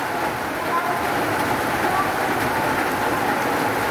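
Steady rain hisses evenly and continuously, a dense wash of drops with no breaks.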